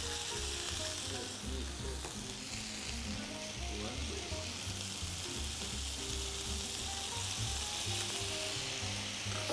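Steak frying in a pan, a loud, dense, continuous sizzle and crackle throughout as the meat is turned over.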